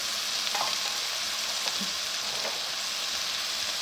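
Spices sizzle and fry steadily in a pan: turmeric, crushed red chili, chili powder, coriander and cumin. The crackling hiss is close and continuous, with a few light stirring scrapes and no talking.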